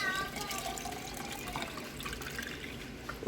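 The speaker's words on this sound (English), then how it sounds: "And then fill the rest up with water." Water pours into a lemonade jug in a kitchen, a steady faint splashing fill with a rising gurgle, close and quiet.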